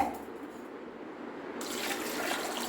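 Water is poured from a tap into a pressure cooker holding chickpeas, a soft continuous splashing stream that grows brighter and fuller toward the end, quiet and close, with no voices.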